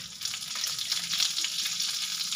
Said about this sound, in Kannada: ಎಣ್ಣೆ ಬಿಸಿಗಿಟ್ಟಿದ್ದೀನಿ ಸ್ವಲ್ಪ ಎಣ್ಣೆ ಹಾಕೊಂಡ್ರೆ ಸಾಕು ಅದಕ್ಕೆ ಸ್ವಲ್ಪ ಜೀರಿಗೆ ಜೀರಿಗೆ ಮತ್ತೆ ಬೆಳ್ಳುಳ್ಳಿ